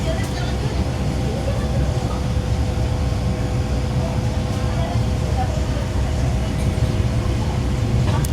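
Train leaving Putatan station on the Sabah railway, a steady low rumble and drone of the moving train with constant rolling noise throughout, loud and close, with no clear breaks.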